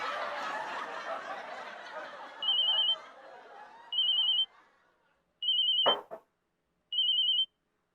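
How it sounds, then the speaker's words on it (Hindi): A telephone rings back after a call is dialed on a new phone, four evenly spaced electronic ring bursts, clear and close, following fading background chatter and laughter from a TV comedy. "अब इस नए फ़ोन से मैडम को फ़ोन लगाता हूँ।"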